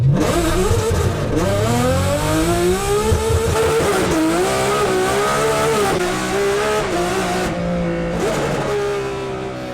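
A high-revving Ferrari F12tdf 6.3-litre naturally aspirated V12 roars continuously, its pitch rising and falling through gear changes, loud and close, with no talk.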